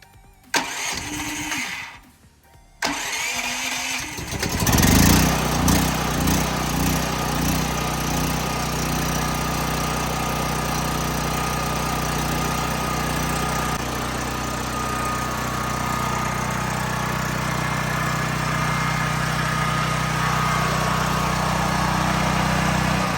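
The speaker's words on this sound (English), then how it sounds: "Let's see how loud it is." A new 9000-watt Predator gasoline generator cranks and sputters on first start, then catches and settles into a steady, loud running drone, heard up close without speech.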